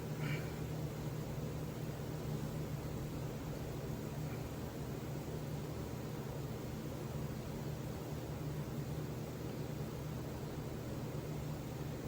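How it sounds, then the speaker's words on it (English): A steady, loud broadband hiss fills the whole stretch, an air compressor leaking after its drain petcock broke off, constant and unbroken with no talking. "you guys hear the air compressor hissing in the background?"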